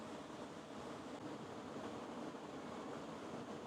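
A stream in Tollymore Forest rushes steadily along a riverbank, a faint, even broadband wash of flowing water with no voices or other distinct sounds.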